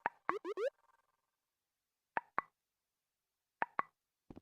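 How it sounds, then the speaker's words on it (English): Short game sound effects from an SFX chip marking a scored point: a quick cluster of bouncy plops and boings, then pairs of brief plops after pauses, clean and isolated with no talking. "This will be the thing that makes the sound to indicate you have scored a point."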